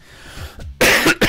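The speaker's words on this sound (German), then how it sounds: "Jetzt kommt der Husten wieder" Two loud, harsh coughs close to the mic, the first longer and rasping, the second short, following a quieter throat-clearing rumble.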